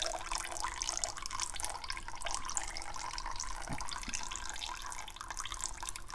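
Old, sludgy engine oil draining in a continuous trickling stream from a 1961 Mercedes-Benz 220Sb W111 engine during an oil change. The pour holds steady and close, with no talk.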